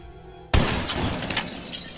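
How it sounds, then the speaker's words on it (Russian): Glass shatters in the horror video game Granny 3, a sudden loud crash after a moment of near silence, followed by a scattering tail of tinkling shards and debris. "Разбивать стекло и будем брать лом"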